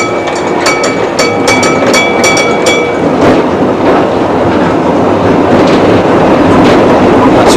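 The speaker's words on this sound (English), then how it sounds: "this tram's painted green with a bow collector, it's turning a few heads along the way" A green vicinal tram with a bow collector rolls past close and loud, its wheels giving rhythmic clickety-clack beats early on before settling into a continuous rumble.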